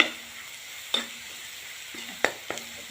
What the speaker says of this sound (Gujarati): મસાલા એક જ મિનિટના અંદર આપણા શેકાઈ ગયા છે